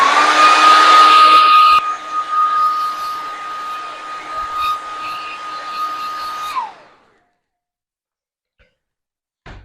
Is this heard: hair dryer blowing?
yes